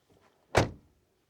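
A car door shuts with a single solid thunk, close and fairly loud, then quickly fades into quiet.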